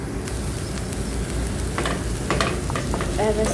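Onion and tomato frying in a pan, a steady broadband sizzle with scattered stirring clinks and scrapes partway through, fairly close and with no talking.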